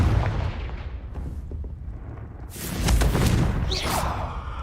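Confringo fire spell blasts in the video game Hogwarts Legacy, fought against spiders in an underground cellar: booming explosive bursts over a rumbling backdrop, with a louder, harsher blast swelling midway.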